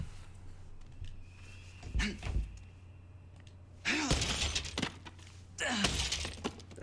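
Glass bottles shattering in the horror game The Outlast Trials, two loud bright crashes of breaking glass later in the clip after quieter clunks and knocks, over a low background hum.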